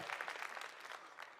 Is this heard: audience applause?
yes